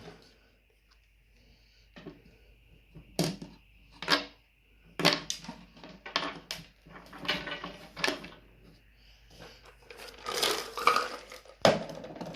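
Qualdrop filter media cubes drop into a Hamburg filter as a string of close, hard clattering knocks and rattles, arriving singly and in small clusters, with a busier burst of clinks near the end.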